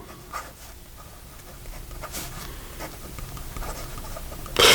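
Fountain pen with a medium steel Jowo nib and Lamy Dark Lilac ink scratching softly across paper in short strokes, quiet and close, ending with a louder rustle.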